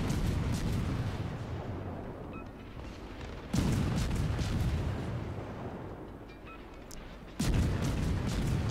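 Heavy naval gun salvos from a Tashkent destroyer in World of Warships, two deep booming blasts several seconds apart over a continuous rumbling battle backdrop, no talking.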